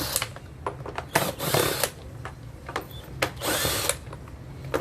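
A power tool fitted with an 8 mm socket drives out bolts on a Yamaha Aerox 155 scooter. It runs in two loud, sustained whirring bursts, with shorter mechanical clicks and rattles close by between them.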